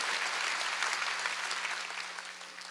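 A church congregation at a Wednesday service applauds together, dense sustained clapping filling the room at steady loudness and tapering slightly toward the end, with no voices over it.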